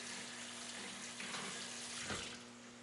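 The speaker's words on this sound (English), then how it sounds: "we'll rinse it off a little bit." Tap water runs over a Lake Mead catfish fillet at camp, a steady close hiss of splashing water with a brief gurgling surge near the end before it eases off.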